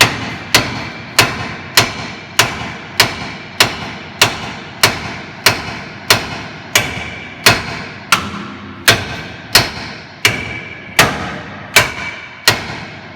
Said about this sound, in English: So now I got my sledge, and I'm going to try to knock this bolt out.